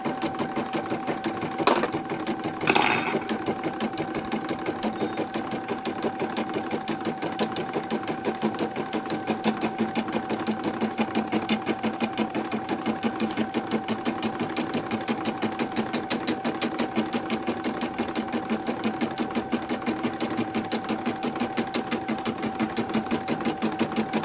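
A sewing machine stitches a tack down on fabric for a stuffed snowball, running with a steady, even mechanical whir and rapid needle rhythm, briefly punctuated by a couple of clicks near the start.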